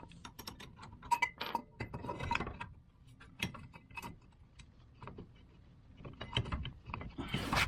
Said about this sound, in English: then you just put your ratchet and spin it on off.